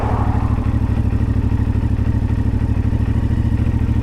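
A CFMoto Ibex 450 motorcycle engine idles at low speed with a steady, evenly pulsing thrum, loud and close and holding the same rhythm throughout, with no voices.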